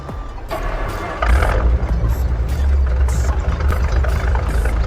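Skid steer and truck driving in Farming Simulator 22 at a bridge construction site over a river, a low rumbling engine drone that swells louder after the first second and holds steady, with brief clatters on top.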